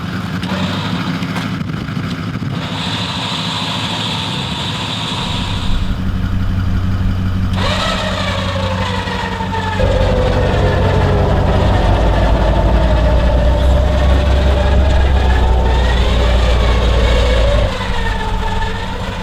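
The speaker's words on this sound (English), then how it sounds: "we're just going to winch it out slowly up on a level ground" A vehicle being winched slowly out of a washout on a station property, its engine running with a steady low idle drone and a continuous mechanical whine layered over it, loud and close throughout, with no talking.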